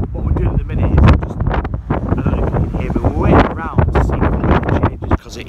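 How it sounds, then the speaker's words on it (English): Strong wind buffets the microphone during a rough ferry crossing to the Outer Hebrides off Scotland, a loud continuous roar and gusting that runs under and between a person talking throughout. "It is super windy."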